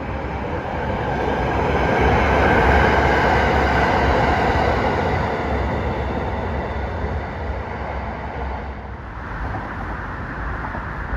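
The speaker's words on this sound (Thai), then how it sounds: "รถไฟฟ้าสายสีแดงอ่อนนะครับ ทุกคน ก็กำลังวิ่ง ข้ามแม่น้ำเจ้าพระยานะฮะ" An electric train on the Light Red Line crosses the Rama 6 Bridge over the Chao Phraya River, rumbling past steadily with a broad roaring whoosh and faint rhythmic rail clatter, swelling then slowly easing off, no voices.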